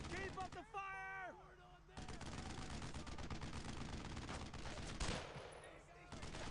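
Sustained bursts of automatic gunfire and distant shots in a war video game, continuous and dense across the clip, with a brief voice-like tonal call near the start.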